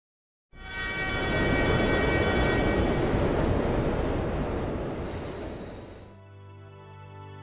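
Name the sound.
passing train in a video game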